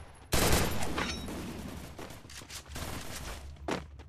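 Gunfire in the Free Fire battle royale game: a sudden loud burst of rapid shots, then scattered bursts and single cracks of varying loudness, with a final sharp report near the end and no talking.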